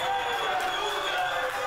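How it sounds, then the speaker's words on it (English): Wrestling crowd screaming at a lucha libre event as Manu slams Mecha Wolf onto a pile of chairs, a dense, steady roar of many voices filling the venue throughout, with no clear pauses. "The crowd is screaming"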